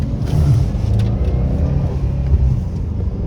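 A Subaru STI being driven, its engine a steady low rumble with road noise from inside the cabin, loud and continuous with no talking.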